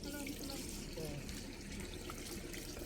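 Shellfish being washed under running water make a quiet, steady stream of splashing and trickling with small clicks of shells, continuous throughout, while a voice speaks over it.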